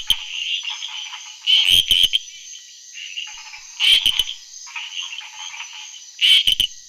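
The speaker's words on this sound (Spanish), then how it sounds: "El canto que suena más fuerte es el de la Ophus zebracatus, que es la rana del centro." Three frog species calling together, including Ophus zebracatus, loud bursts of high trilling croaks repeating at about two-second intervals over a steady background chorus of fainter frogs.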